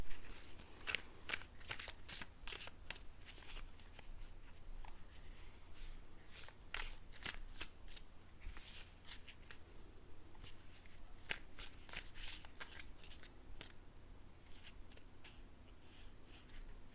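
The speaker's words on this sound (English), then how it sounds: "I just like to give a little extra shuffle while I connect to your energy" A tarot card deck is shuffled close up, soft riffling bursts and crisp card flicks arriving in irregular clusters in a quiet room.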